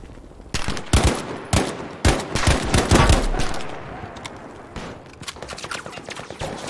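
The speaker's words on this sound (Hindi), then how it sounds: "O machine gun." Machine gun fire in the World War II shooter Battlefield 5, dense rapid bursts and overlapping shots, close and loud, with distant firing and explosions in the mix.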